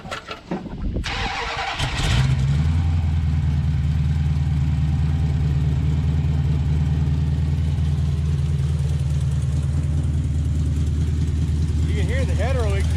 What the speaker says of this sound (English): let's see if it still runs on all 8 cylinders and how it sounds with them mufflers